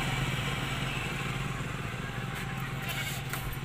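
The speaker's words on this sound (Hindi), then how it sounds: "तो सबसे पहले हम बाइक को स्टार्ट करते हैं।" A Bajaj Vikrant motorcycle engine runs at a steady idle nearby, a continuous low putter with a faint clatter and no other sounds over it.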